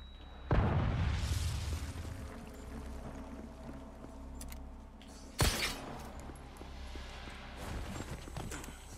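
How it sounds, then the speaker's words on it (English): A flashbang grenade exploding in a video game, two sudden bursts several seconds apart, each a sharp crack fading into a rushing, ringing decay, with quieter game sounds in between. "Flashbang."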